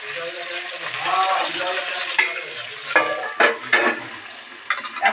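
Okra frying in a pan alongside aubergine, a steady broadband crackle running throughout with a few louder clacks and stirring bursts near the end, moderately close.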